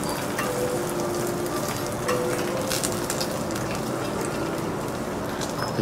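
A Kobe steak sizzles on a hot cooking surface as a chef cooks it medium rare in Kobe, a steady close hiss with light clinks of utensils.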